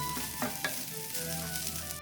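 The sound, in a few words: tofu fried rice being stirred in a pan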